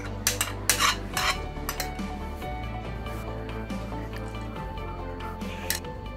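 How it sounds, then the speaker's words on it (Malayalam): Butterscotch mix for bread pudding poured into a glass tray, with soft scraping and clinking of a utensil against the container near the start, over a steady low background hum. "ആദ്യം തന്നെ ഞാൻ ബട്ടർ സ്കോച്ചിൻ്റെ ഈ ഒരു മിക്സ് ആണ് ഒഴിച്ചു കൊടുക്കുന്നത്."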